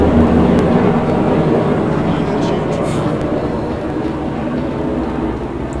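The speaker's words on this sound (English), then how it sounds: "listen to the sound of that goddamn helicopter" Helicopter in the Persona 5 Royal video game gives a steady, loud low rumbling drone that continues throughout, fading slightly toward the end.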